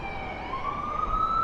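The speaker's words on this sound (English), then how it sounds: "Sounds like there's an ambulance coming through." An ambulance siren wails, one rising sweep climbing and holding, at moderate distance over low traffic rumble on Fifth Avenue in New York City.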